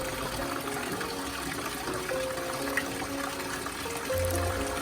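Water flows from the spouts of two carved statues at an ancient Majapahit-era bathing place, a soft steady trickle and splash heard at a distance along with faint low hums and background sounds.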